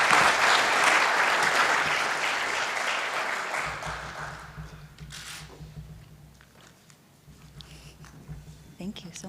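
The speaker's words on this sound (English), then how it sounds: "a quick round of applause for these amazing panelists" Applause from a sales summit audience for a panel, loud and dense at first, then thinning into scattered claps as a voice begins speaking over it.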